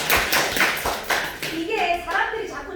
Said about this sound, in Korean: 박수 한번 쳐봐.